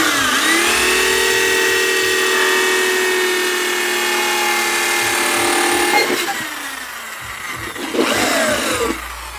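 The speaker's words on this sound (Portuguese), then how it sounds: "Vou estar utilizando a furadeira com um serra-copo." An electric drill fitted with a hole saw cuts a hole in a part on a Shineray motorcycle. A loud, close whining motor runs steadily for about six seconds, winds down, then spins up again briefly.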